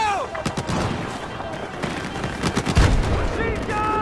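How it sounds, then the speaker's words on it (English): Automatic machine-gun fire in Battlefield 4, rapid bursts of gunshots amid a chaotic battlefield mix, with soldiers shouting orders over the shooting. "Machine gun!"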